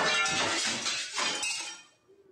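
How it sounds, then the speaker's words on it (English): Glass splintering and shattering with a loud crash in a video game, a dense bright burst of breaking shards that rings on and then thins out into scattered tinkling. "Some glass object splinters with a monumental crash behind us as we make for the exit."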